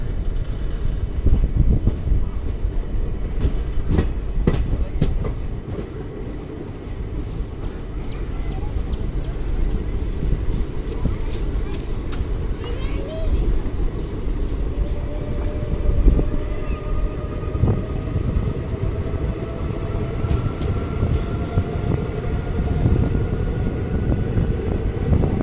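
A passenger train runs on the tracks between Kadakkavur and Chirayinkeezh stations in Kerala. A continuous heavy rumble carries light, irregular clicks and rattles from the rails, with a faint rising tone drifting through the middle.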